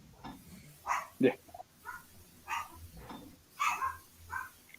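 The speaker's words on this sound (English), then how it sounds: "Feed them dogs, would you, Jamie?" Several sharp, yappy barks from small dogs, scattered and irregular, moderately near with no talking.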